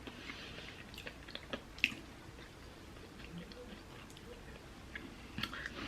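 Crunchy Star Wars sand cookies with cinnamon and sugar are chewed up close, with irregular crisp bites and squishy mouth sounds over a quiet background.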